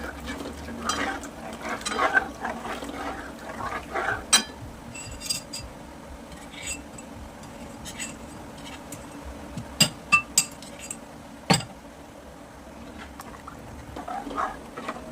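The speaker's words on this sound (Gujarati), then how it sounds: "એ સખ્ત હલાવતા રહીશું" A spoon stirs kadhi batter in a pot, giving soft scraping and swishing, and a series of sharp metallic clinks against the vessel rings out at intervals over a quiet background.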